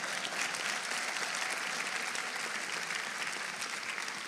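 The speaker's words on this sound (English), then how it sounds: "So please clap for my husband so he knows that he did." Steady audience applause filling a convention hall, dense and continuous clapping from a large crowd at close range, with no talk over it.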